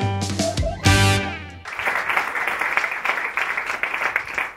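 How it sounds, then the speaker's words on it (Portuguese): A live audience at a Portuguese stand-up comedy show breaks into loud, sustained applause and clapping after a short stretch of music, and the clapping fills the rest of the moment. "quero uma grande salva de palmas para o meu próximo convidado"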